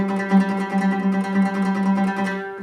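An oud played with a slow, relaxed, even tremolo, with rapid steady plectrum strokes repeating on a sustained low note, close and clear with no talking.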